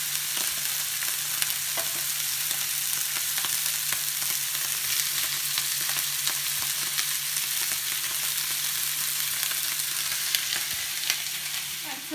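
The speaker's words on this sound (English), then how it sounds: "You can hear the sizzle." Minced meat sizzling and browning in olive oil in a preheated pot, a steady, crackling hiss with scattered pops running continuously and close, no talking over it.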